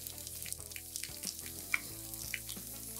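Sliced potatoes sizzle in a frying pan for German-style pan-fried potatoes, a quiet continuous crackle with scattered small pops and one brighter squeal, no voices over it.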